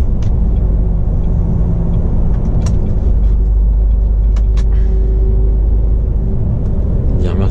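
A car brakes and passes close by on a road, a loud steady rumble of traffic and engine throughout, with a voice speaking briefly underneath.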